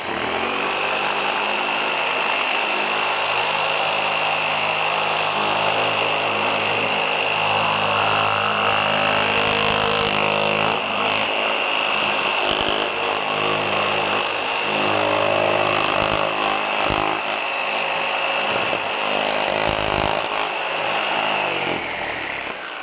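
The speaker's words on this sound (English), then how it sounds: "We're going to pull the trigger, let the blade come up to speed, and then we're going to continue making our cut." Jigsaw cutting through wood, its motor whining at a steady high pitch as the blade buzzes continuously through the cut, loud and close, running for over twenty seconds without talk.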